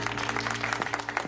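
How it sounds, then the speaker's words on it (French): Studio audience applause for a departing guest on a French-dubbed sitcom set, a short dense burst of clapping over a steady low hum. "Applaudissons Wyatt."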